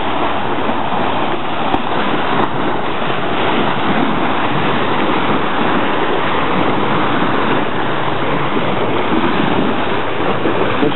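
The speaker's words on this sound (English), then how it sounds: "You can hear how loud these waves come in." Loud waves roll in continuously on the Spofford Lake shore on a busy afternoon, a steady close surf roar buffeted by wind against the microphone.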